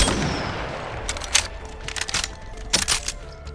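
Triple Take marksman rifle in Apex Legends firing a few spaced shots, each a sharp crack with a short metallic tail, over a low background hum.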